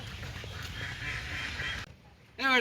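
Murky outdoor background noise, then a brief pause before a loud, close burst of domestic ducks quacking near the end.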